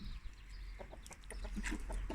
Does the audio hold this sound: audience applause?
no